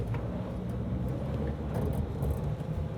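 A Ford Ranger PHEV pickup releases the brake and pulls away uphill from a stop, giving a steady low rumble of drivetrain and road noise close by with no break across the few seconds.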